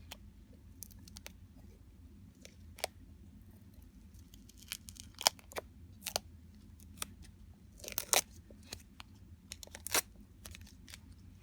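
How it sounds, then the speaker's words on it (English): Tape and vinyl stencil being peeled off etched ceramic, giving sparse, sharp ripping and crinkling bursts scattered over a quiet background, close up and without speech. "now I'm going to peel off my tape and my vinyl"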